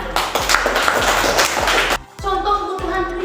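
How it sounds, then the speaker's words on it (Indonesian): Children clapping together in a classroom during a lesson, rhythmic bursts of claps with thumping taps, loud and close, stopping briefly before resuming. "Tepuk tangan."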